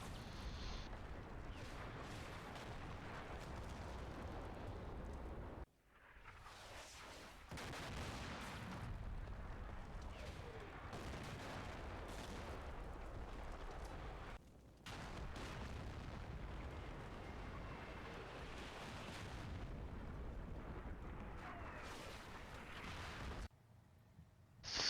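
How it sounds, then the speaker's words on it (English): Battalion mortar barrage in the Combat Mission Cold War video game, a sustained run of loud booming impacts and blasts rolling almost continuously, broken by two short lulls before the shelling resumes. "I decide to call in the battalion mortars on these guys"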